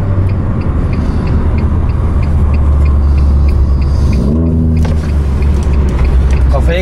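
A Renault Megane RS held at full throttle on the Istanbul Park racetrack, a loud, steady engine roar heard from inside the car with a brief shift in pitch, while people talk over it.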